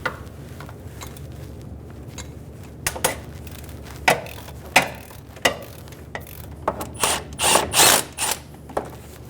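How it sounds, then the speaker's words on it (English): Ratchet wrench with a 12mm socket loosening the bottom bolt of the timing belt tensioner on a 2003–2008 Honda Pilot engine, close and without talk: a series of sharp clicks that speed up into rapid ratcheting bursts. "Using a 12mm socket, we're going to remove the bolt on the bottom of the tensioner."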